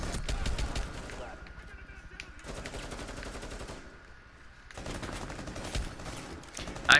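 Rapid automatic gunfire from a heavy-recoil weapon in Rainbow Six Siege, loud sustained bursts broken by a short lull, then resuming, with game sounds around it.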